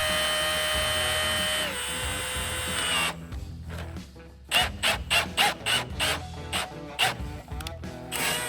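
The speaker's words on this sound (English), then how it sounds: "setting rivets with the drill actually isn't very hard at all" A drill whirs steadily while setting rivets on a 2016 Jeep Wrangler, then cuts to a run of short, sharp ratcheting bursts, each a rapid mechanical clatter separated by brief pauses, close and fairly loud.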